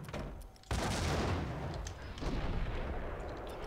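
A grenade goes off in the Max Payne video game with a sudden loud blast, followed by a sustained roaring, crackling rumble of debris and echo that keeps going to the end.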